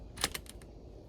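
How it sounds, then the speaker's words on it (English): A torque wrench clicks at its set torque while a refrigerant line fitting is tightened on a DIY mini-split install, giving a few quick, sharp clicks close by in a quiet room with no talking. "the torque wrench, it will click when you get to the right"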